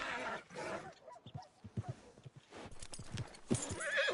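Horse hooves clip-clop and a horse whinnies in the open-world western game Red Dead Redemption 2, with uneven hoofbeats and a neigh close by amid other outdoor game sounds.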